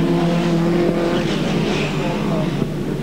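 1980s race cars roar past on a circuit at close range, a loud, sustained engine drone with shifting tones as the cars pass. A hint of tyre squeal is mixed in.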